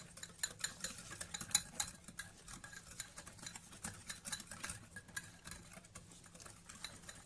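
Mug cake batter stirred by hand in a bowl, with a steady run of scraping, clinking strokes of a utensil against the sides, close and fairly quiet, with no talking.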